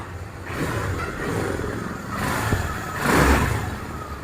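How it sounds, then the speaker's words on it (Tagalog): Motorcycle whose remote-control ignition is broken, started and running without the key, a moderate idling engine rumble that swells gently a few times, heard alone. "Pero aandar yung motor mo."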